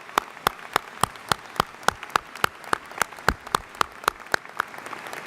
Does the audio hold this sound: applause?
yes